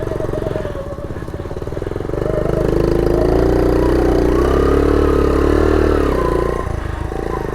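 A 52-year-old vintage Honda motorcycle engine runs loud and close while riding off-road, its droning pitch rising and holding steady before easing off near the end.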